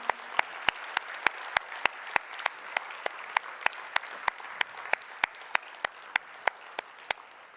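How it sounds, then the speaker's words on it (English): Book launch audience applauds Dr Varaprasad Reddy, founder of Shantha Biotech, a soft bed of crowd clapping punctuated by sharp, evenly spaced loud claps from one nearby pair of hands. "Please give him a big round of applause."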